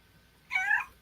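A pet cat gives a single clear, close meow lasting about a third of a second, following a moment of near silence.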